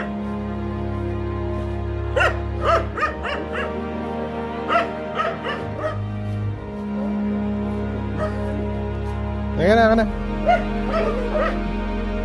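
Small dog yipping, whimpering and giving short bow-wow barks in scattered bursts at a family homecoming in the Philippines, close by, mixed with people talking.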